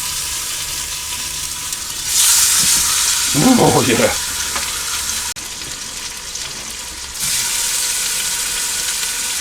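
Loud hiss and crackle of pork chops browning in a hot pan, swelling when the meat is added, with a brief voice speaking over the sizzle.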